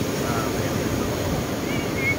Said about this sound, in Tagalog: Malaki ng alon.